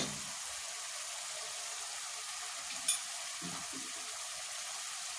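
Catla fish fries with ground cumin paste in a pan, giving a steady, even hissing sizzle with soft stirring and one brief clink partway through, with no speech.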